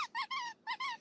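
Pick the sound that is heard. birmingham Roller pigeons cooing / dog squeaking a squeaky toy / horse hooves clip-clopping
dog squeaking a squeaky toy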